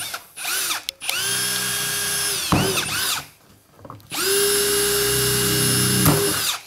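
A power drill bores drainage holes through a plastic seed tray used for sowing leeks, giving two long, loud, steady whining bursts separated by a short pause and a brief spin-up.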